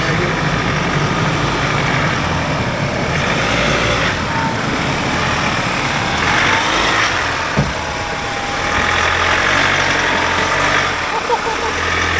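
A Ford Ranger Raptor fitted with a stainless snorkel creeps slowly up over wet rocks off-road, its engine a loud, steady, low rumble throughout, with voices talking over it.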